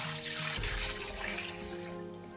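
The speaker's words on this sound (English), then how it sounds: "I'm then going to be adding 1200 ml of water." 1200 ml of water pours into a cooking pot for dried okra soup, a steady close splashing gush that settles into a softer running flow, heard alone.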